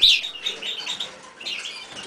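A pet bird in a cage gives a quick run of bright, high chirps and tweets. They are close and fairly faint, with a light fluttering between the calls, and no voices are heard.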